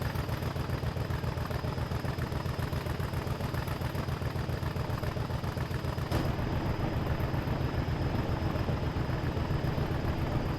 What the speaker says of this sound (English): The engine sound leaves more to be desired.